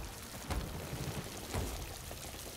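Heavy rain pours down in a boat video game, a dense, continuous hiss of water with a couple of slightly louder splashy swells, steady and fairly quiet throughout.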